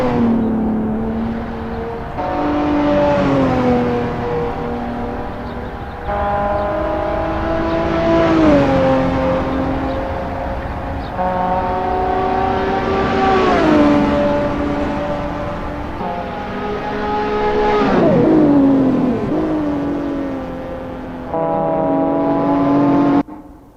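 Group N race cars, including a Volkswagen and a BMW 325is, rev through their gears on the Killarney circuit in an endurance race, engines rising and shifting repeatedly, loud and close, with no talk.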